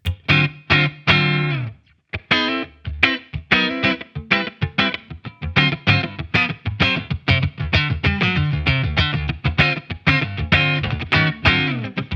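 Clean electric guitar strummed and picked through a Revv G20 amp, bright chords ringing with a short roomy reverb tail, played alone and fairly loud.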